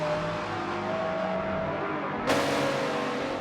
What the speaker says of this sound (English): the Ferrari just could not put the power down